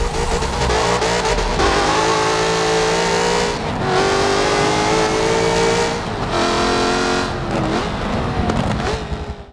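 A Jaguar race car engine in Forza 7 revs hard and continuously, pitch climbing and dropping through gear shifts, loud and close with no talking.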